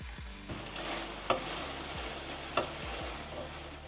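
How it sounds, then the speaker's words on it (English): Japanese tofu frying in a pan with sweet chili sauce, soy sauce and garlic, a soft steady sizzle broken by a few distinct spatula knocks and stirring scrapes, no talking. "We'll cook it until browned by combining it together with the sweet chili sauce, the soy sauce and the remaining garlic."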